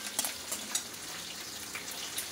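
Something frying in oil in a pan in a home kitchen, a faint steady hiss with a few soft clicks and scrapes of stirring.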